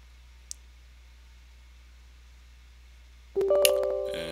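A computer mouse clicks once sharply and faintly near the start during software installation, then a short burst of brighter clicking and tonal beeps follows near the end.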